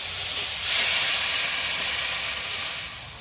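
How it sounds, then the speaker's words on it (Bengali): Water hits a hot pan of frying potatoes being cooked into a thin curry, giving a loud, steady hissing sizzle that surges after a moment and then settles into a continuous steamy roar. "আর বেশি ভাজবো না, এবার জল দিয়ে দেবো"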